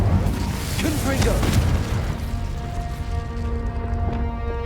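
A Confringo explosive spell goes off in Hogwarts Legacy, a loud booming burst with a dense rumbling body in the first two seconds, then settling into a sustained tonal magical hum and ringing afterglow.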